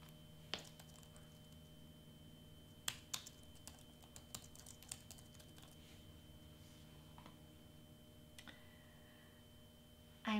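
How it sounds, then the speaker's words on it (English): Soft, sparse clicks of typing on a computer keyboard tap out irregularly over a steady low hum in a quiet room while designs are edited in Cricut Design Space. "I'm done typing, but it's not caught up."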